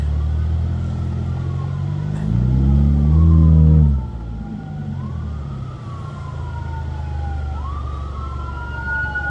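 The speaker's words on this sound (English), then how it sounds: "I got an ambulance going by" An ambulance siren wails past in Philadelphia, its rising and falling tone sweeping by over steady traffic rumble, with a loud engine swell midway.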